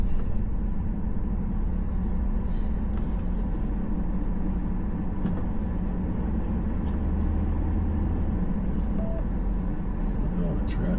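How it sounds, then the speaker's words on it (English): Street traffic in Minot, North Dakota rumbles steadily as cars and heavier vehicles pass, a continuous mid-level wash of engine and tire noise heard while people talk nearby. "Look at all the traffic."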